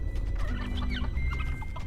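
Turkeys in a farm pen in the dungeon-management video game Dungeons 4 cluck in quick, short bursts over a steady low game hum, without speech.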